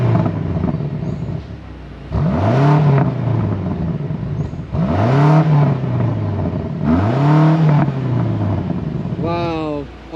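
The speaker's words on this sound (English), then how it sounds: "Can we get you to give it a few revs?" A BMW M car with a V8 engine revs three times close by, each rev a sharp rising roar that then settles, with idling between them and people talking over it.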